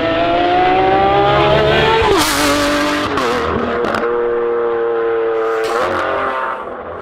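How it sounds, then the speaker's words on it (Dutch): Novitec Lamborghini Aventador SVJ engine revs loudly and close, holding a high sustained note before sharp blips and gear-change cracks punctuate it, then settling and fading slightly toward the end, with no talk. "we hebben ook wat geluid van de Novitec Lamborghini Aventador SVJ"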